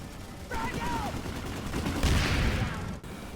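NC6A Godsaw light machine gun in Planetside 2 fired in short bursts, a dense rattling roar that swells midway and cuts off sharply near the end.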